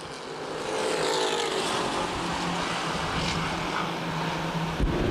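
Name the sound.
street stock race cars racing at Winchester Speedway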